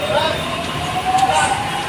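A steady rail rumble and hiss fill a metro station with faint metallic squeals as a metro train stands at the platform, while voices of a crowd chatter nearby.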